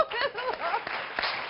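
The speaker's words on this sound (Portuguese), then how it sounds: "Um aplauso, doutor." Brief round of clapping from a lively bachelor-party crowd, mixed with chatter and chuckles, moderately loud and close, lasting under two seconds.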